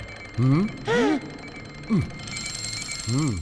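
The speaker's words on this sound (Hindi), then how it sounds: "शेलमैन के खाने और सोने का अलार्म बज चुका है" A cartoon alarm rings out in an animated film, sounding as a few short, bright rising electronic chirps separated by pauses over a steady background hum.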